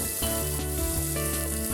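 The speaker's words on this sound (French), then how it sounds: "Mettre directement les gingembres, les ails et les oignons dans la casserole." Ginger, garlic and onions sizzle steadily in a hot pan for Chinese braised beef noodles, a loud, continuous frying hiss with faint stirring clinks and no voices.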